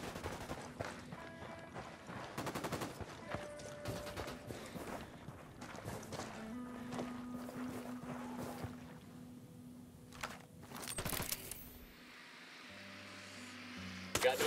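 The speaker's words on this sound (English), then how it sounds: "Opening fire." Gunfire in the Ghost Recon Wildlands video game, rapid bursts of sharp shots packed into the first seconds, then scattered single shots and a final cluster amid engine hum and game ambience.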